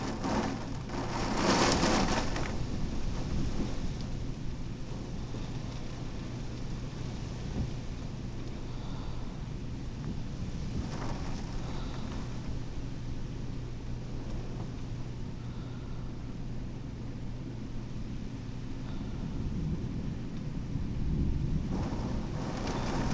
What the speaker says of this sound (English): Very heavy rains.